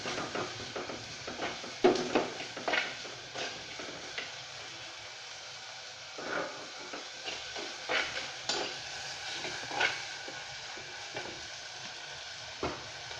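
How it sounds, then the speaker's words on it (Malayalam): Onions and salt fry in a pan for a prawn fry, a soft sizzle running under scattered scrapes and clinks of a spoon stirring against the pan. "പിന്നീട് സവാള ഇട്ട് കൊടുക്കുക, പിന്നെ ഉപ്പ് ഇട്ട് കൊടുക്കുക ഒരു സ്പൂൺ, പിന്നെ ഇളക്കി കൊടുക്കുക."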